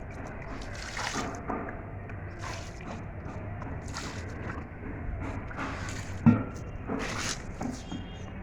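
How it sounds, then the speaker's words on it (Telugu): Water poured onto a sack laid on a floor before a New Year bonfire is built, producing a steady, soft splashing and trickling wash with one brief knock partway through. "వాటర్ పోయండి."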